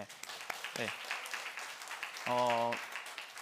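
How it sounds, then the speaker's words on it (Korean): A church congregation claps together, the scattered applause rising and falling over a few seconds, while voices speak and a brief tonal note sounds partway through. "이거 박수 쳐주셔야죠"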